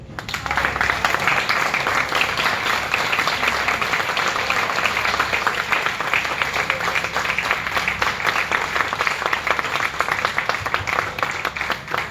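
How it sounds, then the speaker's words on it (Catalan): An audience at a ceremony marking the handover of a corsair sword gives sustained, dense applause, steady and fairly loud throughout. "Rebam amb un fort aplaudiment al pare de la nostra cap d'esquadra júnior, Paco Chillarón."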